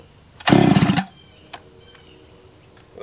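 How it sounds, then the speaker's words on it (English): A Husqvarna 272 chainsaw, set at fast idle without choke, sputters briefly on a pull-start attempt, a half-second burst that dies out. A faint click and near silence follow. "We'll try this one, restart, no choke, fast idle, and just see if it's going to start the same"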